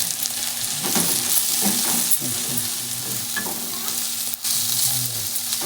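Red masala, coriander powder and garam masala frying in a pan for misal, a dense close sizzle with repeated scraping strokes of a spoon stirring through it, no voices.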